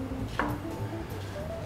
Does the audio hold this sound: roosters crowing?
no